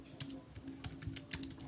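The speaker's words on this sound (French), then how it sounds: "Je tape le mot de passe." Quick, irregular keystrokes on a computer keyboard as a password is typed, a steady run of light clicks alone against a low background hum.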